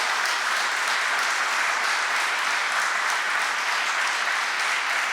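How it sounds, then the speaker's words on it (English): An audience at a groundbreaking ceremony for career academies at iPark 87 applauds in a steady, even wash of clapping with no voices over it. "Let's give that a round of applause."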